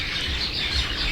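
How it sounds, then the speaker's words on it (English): Wild birds chirp and sing in a bamboo grove, a steady faint chorus of distant tweets over soft background hiss, with no talking. "You can hear all the wild birds in my bamboo right now that are just singing away right now."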